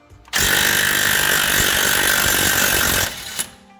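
An impact wrench hammers on a seized strut bolt of a Cadillac SRX with a turbo engine, sounding as one loud, continuous rattling burst of about three seconds that then cuts off sharply.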